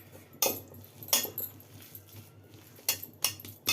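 A spoon stirs banana curry with coriander in a metal pot, a few scattered clinks and scrapes of metal on metal, close and fairly quiet, in irregular bursts.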